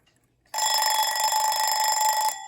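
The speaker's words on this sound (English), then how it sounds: "I'll set the alarm off on this one, because this one's a more accurate representation because it has the metal controls." A Westclox Baby Ben alarm clock with metal controls, Scottish or American made, rings its bell loudly and continuously for about two seconds, starting abruptly after a brief silence and cutting off near the end.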